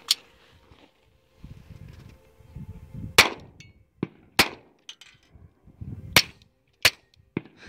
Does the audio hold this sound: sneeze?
no